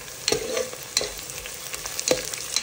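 Green chillies and mint leaves fry with golden-brown onions for a Telangana mutton curry, a continuous sizzle broken by several sharp scrapes and clacks as a spoon stirs the pan.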